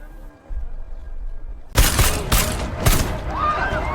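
Gunfire in a film shootout between mercenaries: after a quiet stretch, a sudden loud volley of three or four sharp, booming shots in quick succession that leaves a ringing tail, close and dominant.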